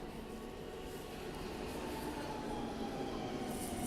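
Steady rumble and rail noise inside a moving Helsinki metro train, a continuous loud ride sound with faint wheel hiss and no talk.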